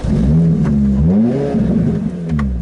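A lightweight 933 kg supercar with a 6-speed manual starts up and revs close by, the engine rising and falling through two or three loud, throaty blips.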